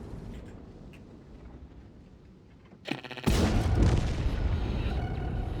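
A tank cannon in World of Tanks fires through cover, with a short crackling burst followed by a loud, heavy boom that rolls on and stays dense until the end.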